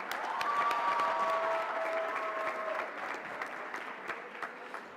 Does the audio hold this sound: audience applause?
yes